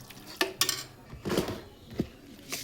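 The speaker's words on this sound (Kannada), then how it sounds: "ಸೊ ನೋಡಿ ಈ ಥರ ಚೆನ್ನಾಗಿ ಮಿಕ್ಸ್ ಮಾಡ್ಕೊಳ್ಳಿ" Batter being stirred and mixed in a bowl for a puri and potato palya recipe, giving a few separate scraping and clinking strokes of a utensil against the bowl, close and fairly quiet, with no talking.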